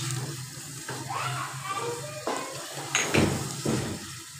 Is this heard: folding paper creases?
no